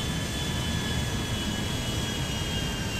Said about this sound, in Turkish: Arkadaş Boeing uçuracağım ya.